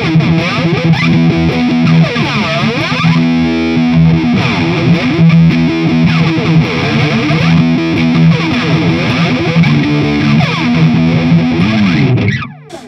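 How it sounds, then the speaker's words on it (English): Distorted electric guitar run through a Boss BF-3 flanger pedal, switching between standard and ultra modes, with loud sweeping jet-like whooshes rising and falling over sustained chords until it cuts off near the end. "It's also got this ultra mode, which is basically sort of like an even more hyped up, crazy flanger sound."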